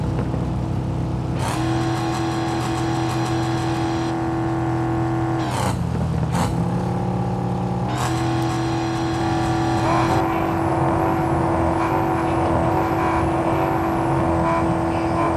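A classic car engine revs in the Car Parking Multiplayer video game, with a loud sustained engine note, repeated rising gear-shift sweeps and a brief drop in between, played continuously without voices.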